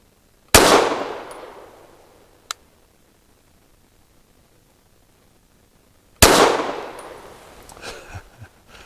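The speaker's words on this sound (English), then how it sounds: "Very soft and very nice shooting through this gun" Two sharp pistol shots from a Canik METE MC9 with heavy suppressed-load rounds, each a loud crack with a decaying tail, several seconds apart, plus a small metallic tick in between and faint clatter after the second.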